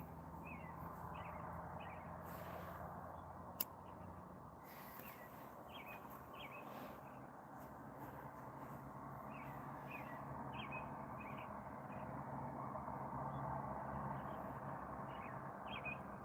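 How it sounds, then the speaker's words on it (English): Faint morning birdsong drifts over a steady low outdoor hum, with repeated short chirps and whistles spaced through the scene, distant and quiet, no voices. "Listen to the birds."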